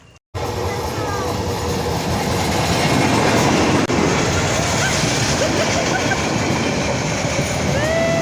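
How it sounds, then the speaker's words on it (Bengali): A train passing close by with a loud, continuous rumble and rhythmic wheel clatter, with occasional metallic squeals and faint voices under the noise. "এই রেল ট্রেনটা কোদিক দিকে আইতেছে?"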